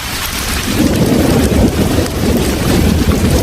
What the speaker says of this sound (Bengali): এ কথা বলতে না বলতেই আকাশ থেকে ঝমঝম করে বৃষ্টির কণাগুলো মাটিতে পড়তে লাগলো